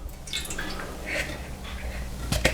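About 150 millilitres of water is poured into a bowl for a chicken breast brine, making a close, wet trickle and splash that lasts the whole moment.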